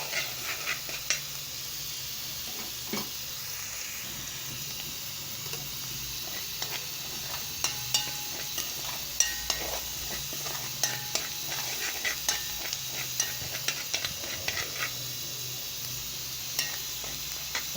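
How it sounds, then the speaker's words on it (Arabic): Potatoes with three garlic cloves and a medium onion sautéing lightly in a pan, a steady soft sizzle with scattered stirring clicks and scrapes throughout, close and moderately quiet, with no voices. "احنا ما بنحمرش البطاطس تلويح بس ومعاها التوم"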